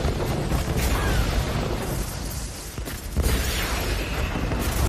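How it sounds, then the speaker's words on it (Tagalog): A whole ship explodes in a deep, rumbling roar that continues with crackling debris and heavy low-end boom, loud and sustained throughout. "ang buong barko ay sumabog"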